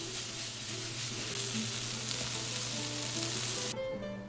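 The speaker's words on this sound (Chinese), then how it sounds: "再淋入适量的米酒， 翻炒均匀即可出锅。" Lamb and garlic sprouts stir-fry in a hot pan with rice wine, giving a loud, dense sizzle that runs steadily before cutting off abruptly near the end.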